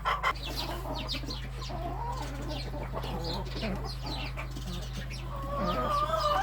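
Several chickens cluck and chatter nearby over a steady low hum, with a person briefly speaking in the background.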